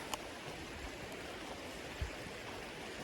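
Water rushing at Cedar Falls along a beginner hiking trail: a steady, even hiss of flowing water from a stream or waterfall, fairly faint and continuous, with a couple of brief knocks.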